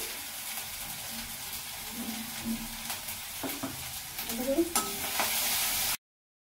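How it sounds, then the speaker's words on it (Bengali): Spices for an egg and potato curry sizzle in a pan while being stirred, a continuous frying hiss with scraping strokes that grow louder toward the end before cutting off. "দেখুন আমার মশলাটা ভালো করে কিন্তু কষানো হয়ে গিয়েছে।"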